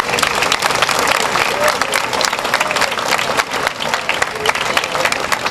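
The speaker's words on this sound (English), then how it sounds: "Please give them a big round of applause." Sustained audience applause at an outdoor road race event, a dense steady wash of clapping from a crowd throughout, with faint voices mixed in.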